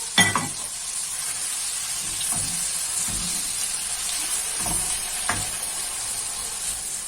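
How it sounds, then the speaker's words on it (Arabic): Chicken strips frying in butter and oil, hissing in a steady sizzle broken by several scraping stir strokes that come at intervals. "هنبدا نحط الفراخ تبعنا، بسم الله، نقلبها بقى نشوحها كده تشويحه بسيطه"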